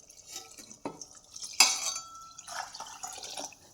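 Water splashes into a metal pot of rice in short bursts, with a few clinks and knocks of the vessel, close by and fairly quiet.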